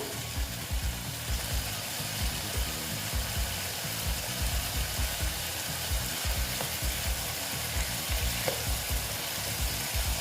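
Ash gourd curry fries in a hot pan and is mixed with a spatula, making a steady loud sizzle broken by repeated scraping strokes against the pan, with no talking.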